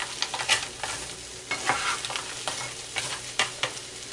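Red bell pepper and mixed vegetables sizzling in a pan, a steady close hiss broken by intermittent scraping stirs and bursts of crackle.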